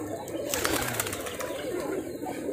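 Pigeons kept for flying in Rajshahi, a soft low cooing close by, with a faint burst of higher chirping partway through.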